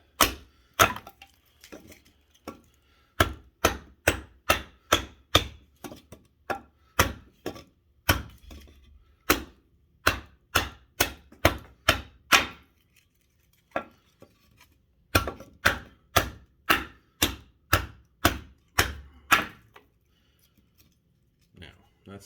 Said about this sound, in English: I almost do everything with the axe itself.